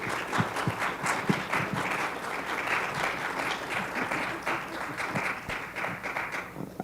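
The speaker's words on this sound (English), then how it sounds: "Let's give our panelists a big round of applause." An audience gives forum panelists a sustained round of applause, many hands clapping densely and evenly for several seconds at moderate volume.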